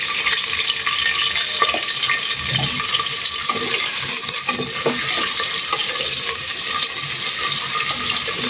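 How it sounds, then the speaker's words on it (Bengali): Chopped onions fry in hot oil with whole spices, a steady bright sizzle close up with occasional taps and clinks of a spoon against the pot. "এখন আমি বেশ কিছু পরিমাণ পেঁয়াজ কুচি দিয়ে দিলাম।"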